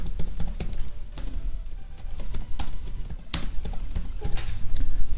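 Fingers tapping out an email on a computer keyboard, a close run of quick uneven key clicks with occasional louder strokes over a low background hum, no voices.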